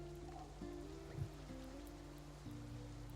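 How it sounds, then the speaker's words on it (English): Continuous rainfall patters softly and evenly through a dark fantasy tabletop game scene, layered over a slow, held ambient music drone with one brief soft thump. "listening to the rain"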